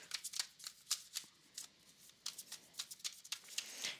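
Tarot cards are shuffled and drawn in quick, crisp bursts of riffling and flicking, soft and close, with short irregular pauses between the flurries.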